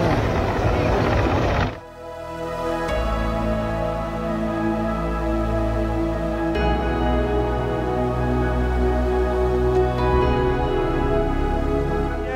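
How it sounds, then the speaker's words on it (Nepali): A Nepal Army helicopter flying a flood rescue, its rotor and turbine droning loudly and steadily with a strong low rhythmic thump, close and sustained, while a voice talks over it. "मान्छेलाई नेपाली सेनाको हेलिकप्टरले उद्धार गर्दैछ"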